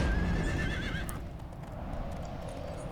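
A horse in the Riders of Icarus video game gives a whinny over steady hoofbeats, with a few sharp clicks near the end, moderately loud and with no talking.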